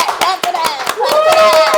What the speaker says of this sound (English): we're gonna clap to that